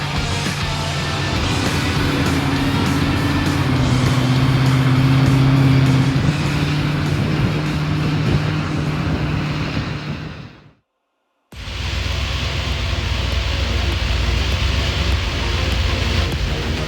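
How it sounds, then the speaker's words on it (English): A blown 1957 Chevrolet Bel Air, an Australian-delivered right-hand-drive car with a 400-cubic-inch small block Chev V8, drives past as a loud, steady engine drone with heavy road and wind rush. The sound cuts out briefly partway through. "It's a 1957 Chev Bel Air, Aussie delivered right-hand drive car."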